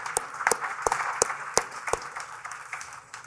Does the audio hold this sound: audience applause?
yes